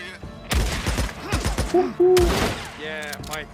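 Gunfire from the video game Days Gone: a rapid burst of shots, then a second loud volley a second later, with voices speaking over and between the bursts.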